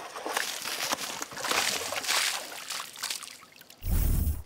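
Open hands slap hard against a water surface, sending up repeated sloshing splashes, with a heavier low splash at the end.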